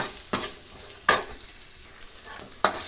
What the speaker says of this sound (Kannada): ಬೇಗನೆ ಈರುಳ್ಳಿನ ಕೂಡ ಉಪ್ಪು ಹಾಕಿದರೆ ಫ್ರೈ ಆಗುತ್ತೆ